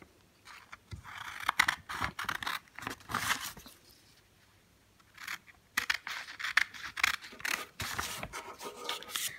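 Scissors cutting paper for a Mother's Day craft, close crisp snips and rustling in two bursts separated by a quiet pause, with no talking.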